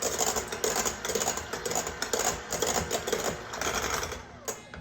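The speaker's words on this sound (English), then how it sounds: "So we're going to go ahead and mix these eggs just a little bit till they're kind of broken." Eggs whisked by hand in a bowl for pumpkin bars, the bowl resting on a pastry mat: a steady, fast and close clicking and scraping that runs the whole time without a break.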